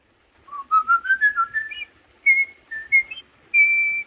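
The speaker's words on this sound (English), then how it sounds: "The element that best represents this and that's most talked about is the whistle." A murderer's whistled tune from a film, a lone person whistling a short melody. The rising, jaunty notes are clear and close in a quiet setting and break off into short phrases.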